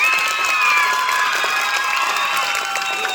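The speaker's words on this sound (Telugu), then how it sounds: "వీళ్ళందరికీ ఎలాంటి క్లాప్స్ కొడితే సరిపోతుంది" High school students applaud at a school event, a dense sustained burst of clapping from a large crowd with faint cheering mixed in, loud and continuous for the whole stretch.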